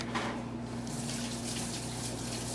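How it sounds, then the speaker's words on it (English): Tap water runs steadily into a kitchen sink during handwashing, a close, continuous splashing gush with a faint steady hum beneath it and no talking. "You wash your hands."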